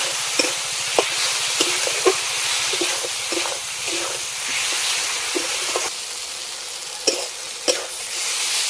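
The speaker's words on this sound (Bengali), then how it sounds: "মশলার সঙ্গে আলু আমি ভালো করে কষে নিয়েছি।" Potato pieces fry in hot oil with spices and salt while being stirred for a pointed gourd curry: a steady loud sizzle and hiss broken by repeated scraping clinks of a spatula against the pan.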